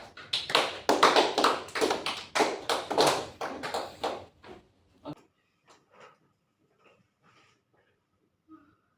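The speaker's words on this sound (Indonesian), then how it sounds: "beri tepuk tangan untuk tes ya" A school classroom of students claps hands together, a loud burst of quick, rhythmic claps for about four seconds that then trails off into a few scattered, faint claps and quiet.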